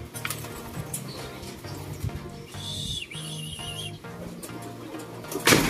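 Racing pigeons at a derby loft during a training flight, with low repeated cooing pulses throughout over a busy, cluttered background and a brief louder burst near the end.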